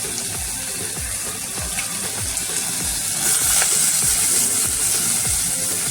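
Onion hitting hot oil with curry leaves in a pan while cooking a cauliflower-potato dish, giving a steady loud sizzle and crackle that swells midway, close up, with no speech.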